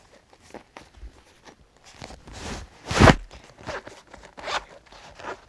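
A zipper on a school pencil case is pulled open in a few quick rasping strokes, the loudest burst in the middle, surrounded by light handling rustles and clicks at close range.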